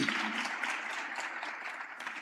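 Audience applause at a youth summit after a keynote address, a steady wash of clapping that holds evenly for a couple of seconds at moderate distance, with no speech over it.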